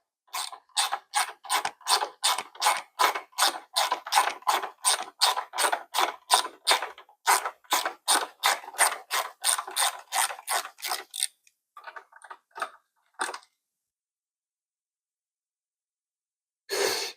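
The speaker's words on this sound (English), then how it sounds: "let's start by just removing these bolts" Bolts being removed from a BMW R1300GS motorcycle with a ratchet: a long run of rapid, evenly spaced clicks, close and crisp, slowing into a few scattered clicks before a pause and one final short burst.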